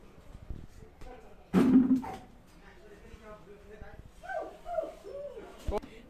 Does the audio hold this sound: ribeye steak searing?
no